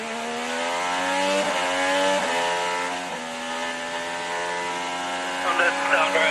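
Graham's IndyCar running rough at Indianapolis Motor Speedway during practice, pulled over off track with an electrical fault; a steady buzzing engine tone with a few brief dips and stumbles, fairly close, with a voice talking over it.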